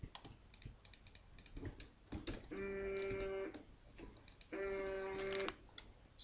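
Keys clicking on a computer keyboard in quick irregular bursts, interrupted twice by a steady electronic tone lasting about a second each.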